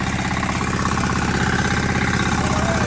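A small tractor engine runs in a rice field, a steady, close, even chugging throbbing without a break and with no voices.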